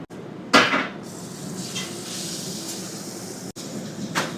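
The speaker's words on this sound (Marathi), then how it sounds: "प्रॉन्स प्रॉन्स तवा तवा फ्राई" Big tiger prawns sizzle on a hot griddle in a restaurant, with a steady frying hiss and a few scrapes and clinks of a utensil against metal.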